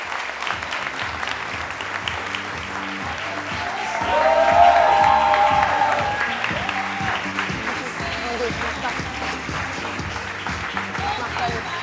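Audience applause at a Limoges fashion show, a steady wash of clapping that swells midway then settles, with a host's voice speaking over it throughout.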